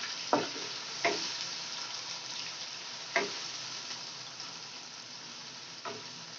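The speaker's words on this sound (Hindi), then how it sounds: "प्याज हमने तेल में ऐड कर दिए।" Onions frying in oil for chana pulao give a steady, faint sizzle with a few sharp stirring clicks spaced apart, close by and without talk.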